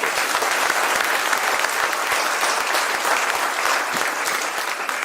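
A large audience claps loudly and continuously at an announcement event for the Grey Cup Festival, dense sustained applause with a faint crowd murmur.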